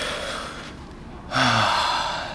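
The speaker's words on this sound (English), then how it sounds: "deep breaths, right?" A person takes a deep breath: a soft, breathy inhale followed by a louder, fuller exhale heard close and alone, with no talking.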